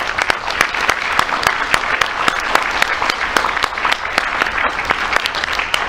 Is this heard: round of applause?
yes